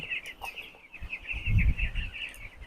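Young broiler chicks on a poultry farm holding about 700 birds give a steady chorus of high cheeping close by, with soft low rustling and scuffling below it.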